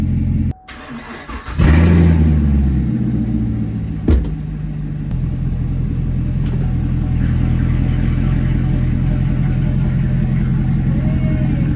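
A rebuilt Corvette engine cranks and fires, then settles into a loud, deep, rumbling idle with a short rev, steady and close for the rest.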